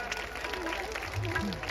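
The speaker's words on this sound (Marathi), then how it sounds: "आपण टाळ्या वाजवायच्या, टाळ्या वाजवा।" A crowd at a religious festival gathering in Amravati claps together during a felicitation ceremony, a continuous patter of applause running under a voice speaking over a microphone.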